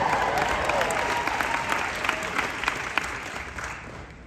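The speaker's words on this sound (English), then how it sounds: "you can clap for that." Steady applause from a seated audience at a motivational speech event fills the whole stretch, dense and continuous, easing slightly toward the end.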